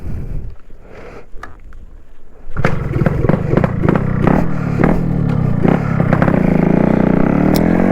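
A Yamaha RX 135 two-stroke motorcycle rides off after a quieter idle, then the engine note rises loud and close with rhythmic revving and gear changes, buzzing steadily with no talk.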